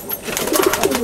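Pigeons from a loft in Falta, South 24 Parganas, an old white-marked breeding pair let out, giving soft repeated coos and a flutter of movement, close and fairly loud, with no talking.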